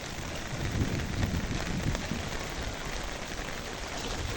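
Heavy rain pours in Jardim, Ceará, in Brazil's Cariri region, making a steady, dense hiss and patter that stays even and unbroken for the whole stretch, with no voices.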